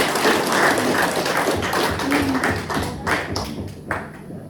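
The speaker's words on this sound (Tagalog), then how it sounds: "Bigyan natin ng mas malakas na palakpakan ng Panginoon." A church congregation applauds together, a dense, steady wash of many hands clapping that fills the room and holds at a fairly loud level throughout, with a few louder bursts near the end.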